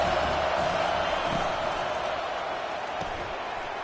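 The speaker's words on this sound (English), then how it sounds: "This crowd trying to make life miserable for this offense." Steady stadium crowd roar at a college football game in a video game against No. 1 Clemson, a dense continuous wash of noise throughout with no commentary over it.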